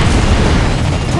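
Shell impacts on a target in World of Warships, with a Tier X Cristoforo Colombo in battle, make a loud, dense booming rumble that fills the whole moment like a sustained explosion blast.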